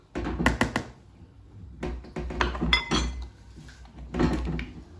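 A utensil clinks and scrapes against a bowl in short bursts as batter of kefir, soda and oil is stirred, with pauses between rounds of mixing.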